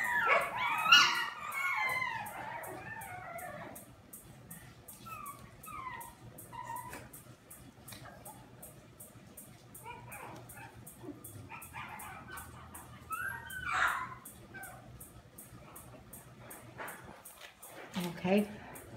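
Puppies yip, whimper and bark in short, high bursts nearby, with a steady ticking in the background.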